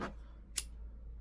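A single quiet snip of scissors cutting yarn during a mini bee finger-knitting project, one short crisp click in a hushed room.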